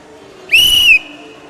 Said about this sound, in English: Get a whistle to protect yourself